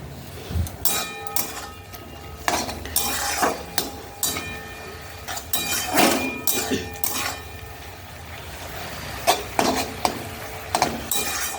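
A metal lid comes off a cooking pot of jute leaf curry, with several clanks and clinks of cookware in bursts against a low background hum, close by and without talk.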